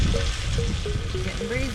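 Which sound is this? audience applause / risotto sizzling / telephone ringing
risotto sizzling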